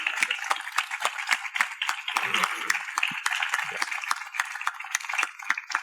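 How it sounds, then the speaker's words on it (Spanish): Scattered audience applause at a 2018 talk in Antofagasta, with sparse, irregular claps rattling along for several seconds at moderate volume. "Aplausos."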